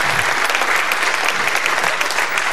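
A studio audience at a Serbian TV show on RTV Pink breaks into loud, dense applause, sustained clapping throughout with no pause.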